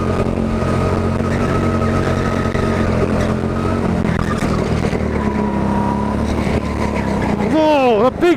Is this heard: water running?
no